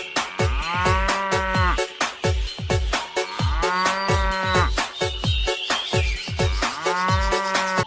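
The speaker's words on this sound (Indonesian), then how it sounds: "Yang ini ada kerbau." A water buffalo moos loudly and repeatedly, low drawn-out calls coming in quick rhythmic bursts, close and clear with no talking.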